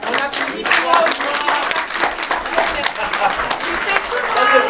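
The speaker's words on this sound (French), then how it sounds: "Ah, on applaudit pour moi aussi." Audience applause from a comedy theatre troupe's show, a dense steady patter of many hands filling the room, sustained at even loudness throughout with no voices standing out.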